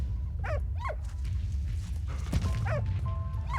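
A dog barks several times in short yappy bursts over a steady low rumble of background noise in the video game Valiant Hearts.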